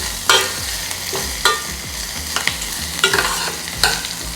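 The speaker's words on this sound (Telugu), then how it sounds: "పచ్చిమిర్చి వేగిన తర్వాత నేను చిన్నగా కట్ చేసిన ఉల్లిపాయలు వేసుకుంటున్నాను" Chopped onions tipped into hot oil after green chillies for a tempering, sizzling steadily with several sharp stirring scrapes of a spoon against the pan, close and alone without talk.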